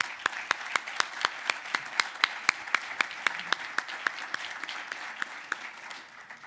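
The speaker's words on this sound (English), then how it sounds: "Please give them a round of applause." Applause at a food bank fundraising campaign event, heard as sparse, evenly spaced claps in a brisk regular rhythm that thin out and fade near the end.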